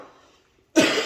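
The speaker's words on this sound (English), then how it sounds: "I've got a little bit of a cough today." A single sharp cough, close and loud, breaks in abruptly after a faint trailing sound and near silence.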